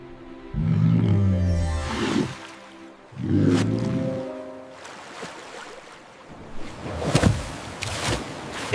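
An orca produces a series of close, loud vocalizations: drawn-out moaning calls and breathy bursts that rise and fall, separated by short pauses.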